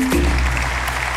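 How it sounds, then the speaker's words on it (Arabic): Studio audience applause on a Tunisian television talk show, a steady, dense wash of clapping that fills the whole moment without any voices over it. "تصفيق"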